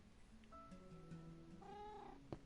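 A cat meows in a video game, a few tonal mewing calls in a row over soft background game sound.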